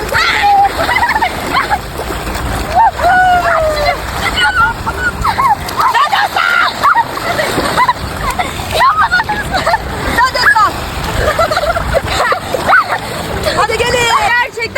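Water splashing in a video game as a character swims, steady sloshing and splatter throughout, mixed under continuous excited talking and game sounds.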